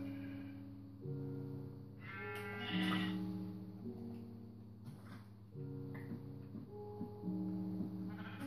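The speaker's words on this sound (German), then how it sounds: "Die töte ich dann, die Schafe." Sheep bleating in the video game Minecraft, a few faint bleats over a steady tonal game backdrop, with no talking.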